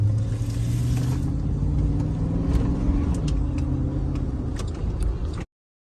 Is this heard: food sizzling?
no